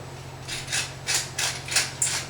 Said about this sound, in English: a nice few grinds of black pepper